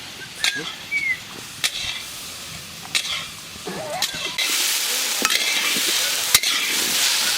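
Potato and soybean chunks sautéed and stirred in a pan: repeated spatula scrapes and clacks over a steady sizzle that swells louder in the second half.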